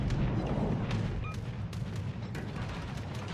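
Heavy naval gunfire from a World of Warships battleship salvo booms in several overlapping deep blasts over a constant low battle rumble, loud and close for a few seconds, with no talking.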